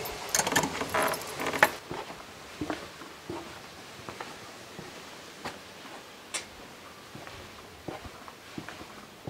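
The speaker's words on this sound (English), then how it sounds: "Oh, somebody's left the keys in this one." Keys jangle in a lock of an old door in an abandoned mountain stronghold, a brief bright metallic rattle at the start, then sparse faint clicks and taps in a quiet, echoing room.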